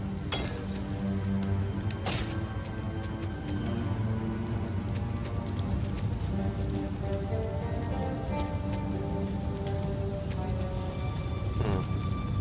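Rain and lightning in the Path of Exile 2 video game: a constant loud downpour hiss with sharp thunderclap cracks near the start and again near the end.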